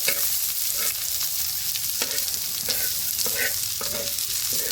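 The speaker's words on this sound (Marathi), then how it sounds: "त्याच्यामध्ये अद्रक, लसण, हिरवी मिरची सगळं टाकायचं. हे बघा, आणि याला सगळ्याला भाजायचं." Ginger, garlic and green chilies roasting in a hot pan for a lemon-chili recipe, a continuous bright sizzle with repeated spatula scrapes and taps every half second or so, close up and fairly loud.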